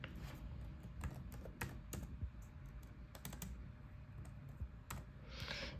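Someone types a name on a computer keyboard during a mapping-software tutorial, producing irregular light key clicks in short bursts over a quiet, steady background.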